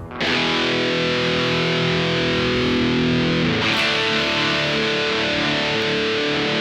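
An electric guitar played through an amplifier's high-gain distortion channel rings out in two long sustained chords, thick and saturated with overtones, loud and close with no talking.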